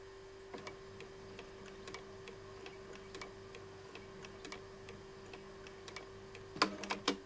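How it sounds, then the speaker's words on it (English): A Bernina 910 sewing machine runs at its lowest speed, giving faint, slow, evenly spaced mechanical ticks over a low steady motor hum, with a louder clatter near the end. "The lowest speed is about 50 stitches a minute."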